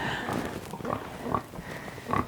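Pigs grunt and snort in a barn, a few short low bursts spaced across the moment over a steady hum of background noise.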